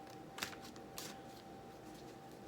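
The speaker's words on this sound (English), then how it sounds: "shuffle these cards nice." Oracle cards being shuffled by hand, faint soft riffling bursts in a quiet room, with two louder flicks among light papery rustles.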